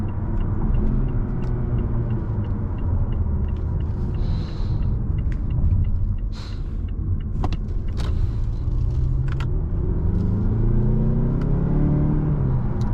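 A 2019 Mazda6 Signature accelerates from the driver's seat, a steady low engine rumble rising gradually in pitch, with faint clicks and a brief whoosh heard inside the cabin.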